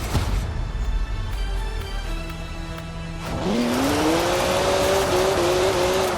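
A BMW 1M in the racing game Forza Horizon 4: engine drone that rises into a loud revving acceleration with a climbing pitch, steady and close, with no talk.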